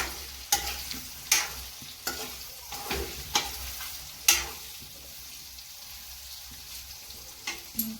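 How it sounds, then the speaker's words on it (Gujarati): Amla, Indian gooseberries, cooking in oil for pickle, a low quiet sizzle punctuated by several sharp spoon scrapes and knocks against the pan at irregular intervals, close by. "આ રીતે આપણે થોડી વાર માટે આંબળાને તેલમાં ચડવા દેવાના છે। આ રીતે આપણે હલાવી લઈશું।"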